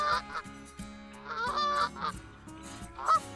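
Tundra Bean Geese honk repeatedly in a game hunting park, a flock's overlapping calls rising and falling over low ambient music, loud and close with a sharper burst near the end.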